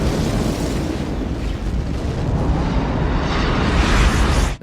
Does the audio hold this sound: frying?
no